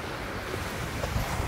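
Surf rolling onto a dark-sand beach at a resort in Tacloban City, a steady continuous wash with wind noise over the microphone, no voices present.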